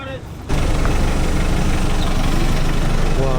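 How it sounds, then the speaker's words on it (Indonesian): A Mitsubishi Fuso bus engine idles with a steady low rumble, starting abruptly after a brief quieter moment and holding constant and close, with faint voices mixed in. "Oh iya, ini busnya nih kayak gini nih ternyata. Bus Fuso Mitsubishi."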